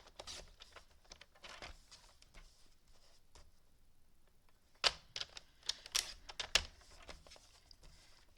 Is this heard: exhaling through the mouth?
no